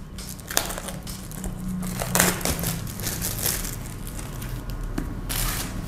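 Sealed plastic packaging on a box of Edifier Neo Buds Pro 2 earbuds is torn open, giving close crinkling and crackling rustles with a few sharp snaps, with no voice over it.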